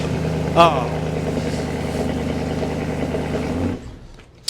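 A cold car engine idles steadily with a dense low rumble, gets one short rev blip early on, then cuts off near the end, leaving near silence.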